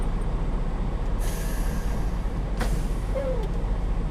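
Air brakes on a semi truck's trailer engage and release, giving two sharp bursts of hissing air over the low rumble of the running truck. A brief squeal follows near the end, and no one speaks.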